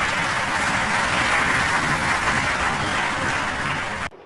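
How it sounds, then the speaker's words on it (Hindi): An audience of seated educated listeners breaks into steady, dense applause, a continuous wash of many hands clapping at even loudness that cuts off abruptly near the end. "उनके सामने बैठे सारे पढ़े लिखे लोग अंधभक्तों की तरह ताली पीट रहे हैं"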